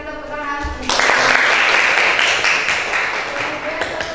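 An audience in a classroom gives Mas Prianto a burst of applause, many hands clapping loudly together for a few seconds before fading, with a voice speaking over the start.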